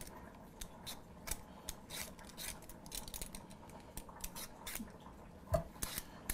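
Knife slicing a firm mango into even pieces on a board, a steady run of quiet crisp cuts and taps, close by with no talk over them.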